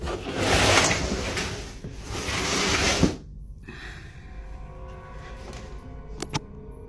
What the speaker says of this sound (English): The drawers suddenly open mysteriously by themselves before closing shut.